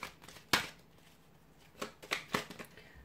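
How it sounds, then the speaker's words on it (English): Oracle cards are shuffled close up: one sharp riffle, then a few softer flicks and slides later, all quiet and with no talking. "I'll give the cards a shuffle"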